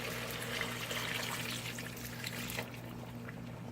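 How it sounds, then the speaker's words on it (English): A cup of water pours steadily into a pot of Jamaican curry chicken in a continuous trickling stream for a few seconds, then cuts off, leaving a low steady hum. "I add in a cup of water."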